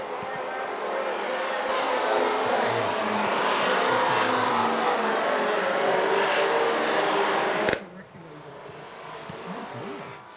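Vintage race cars at the end of an international race: a broad, steady engine roar that holds for several seconds before cutting off sharply, leaving quieter rumbling and distant engine noise.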